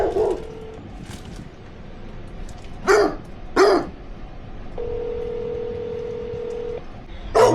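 A dog nearby gives three sharp, separate barks over a quiet background, while steady electronic phone tones sound before and between them.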